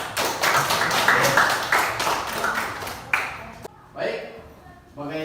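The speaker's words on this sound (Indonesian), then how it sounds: "tepuk tangan untuk kelompok 4" Students in a classroom clap for a group, a short burst of fairly close hand claps that thins out into a few scattered claps and taps near the end.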